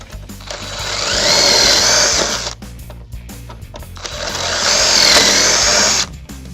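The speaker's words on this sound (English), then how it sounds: "let's go ahead and drill this demonstration piece" A power drill whines up to full speed twice, drilling pocket holes in wood with a pocket-hole jig, each burst lasting about two seconds with a brief quiet pause between.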